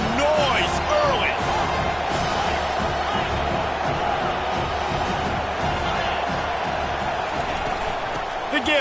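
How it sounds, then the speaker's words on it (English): Dense, steady roar of a college football stadium crowd filling the air, loud and continuous with scattered shouts, while a commentator talks over it. "This crowd bringing the energy and noise early."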